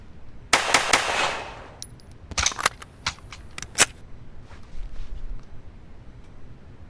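Gunfire in the video game Black Bag: a loud burst of sharp shots, then a cluster of separate reports, followed by fainter clicks and rattles.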